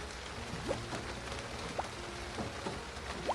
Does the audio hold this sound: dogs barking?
no